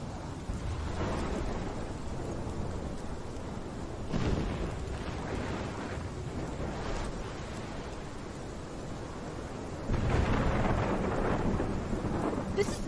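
Thunderstorm in Life is Strange: heavy steady rain with rolling thunder booms surging around the middle and again louder near the end, no talking.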